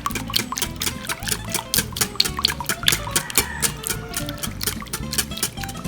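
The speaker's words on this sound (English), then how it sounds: "Water." Water poured into a bread pudding mixture, a continuous close splashing and gurgling with uneven rhythmic pulses, with no talk over it.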